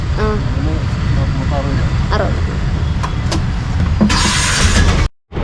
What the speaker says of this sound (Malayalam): അങ്ങനെ നമ്മൾ ഓട്ടോയിൽ കയറി നേരെ വീട്ടിലോട്ട് വിടുകയാണ്.